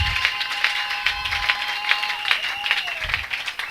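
A church congregation applauds at a worship service, steady clapping filling the room in waves throughout, with a few sharp bursts and a low rumble under the crowd noise.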